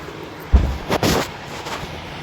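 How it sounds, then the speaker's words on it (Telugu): A bomb blast in the planet-destruction game Solar Smash, heard as a sharp booming hit followed by a second rumbling burst with no talk, then fading into a low hum. "ఇదేందో బాంబ్ అని ఉంది, సగం లేపేసింది కదా బాంబ్ అని నొక్కితే"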